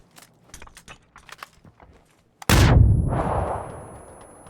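A grenade detonates in PUBG on the Sanhok map, a sudden loud boom that rolls into a long fading rumble, coming after a stretch of scattered light clicks and taps.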